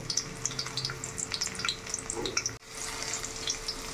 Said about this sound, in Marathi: थोडाफार लालसर येईपर्यंतच फ्राय करायचा कांदा फ्राय होत आहे